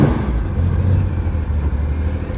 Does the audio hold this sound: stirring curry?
no